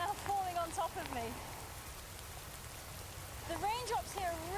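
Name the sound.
heavy monsoon rain in India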